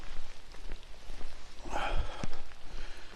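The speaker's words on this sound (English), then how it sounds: "It's proper chucking it down." Heavy downpour pouring steadily, a thick spread of close raindrop patter on surfaces with a brief louder splash or knock partway through, no talking.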